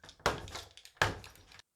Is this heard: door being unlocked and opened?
yes